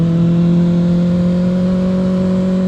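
A Kawasaki ZX-6R motorcycle on the road holds a loud, steady engine whine at constant pitch, close and smooth, with no pauses or voices.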